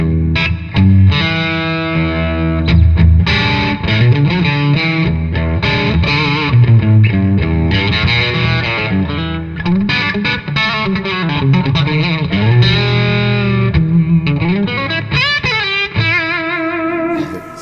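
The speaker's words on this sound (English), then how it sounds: "That reverb. That is the Two Rock Crystal." An electric guitar plays through a Two Rock Crystal amplifier with reverb at the NAMM 2014 show, strummed chords and driven, distorted lines ringing out loud and continuous with a spacious reverb tail.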